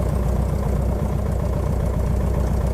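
Simulated Piper Arrow piston engine idling steadily during a run-up in Microsoft Flight Simulator, a loud continuous low rumble with even rhythmic pulsing throughout.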